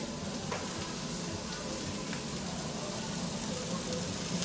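Onions fry in a pot of oil for paella, giving a constant dense sizzle with faint crackles and occasional stirring clicks, steady and moderately close throughout.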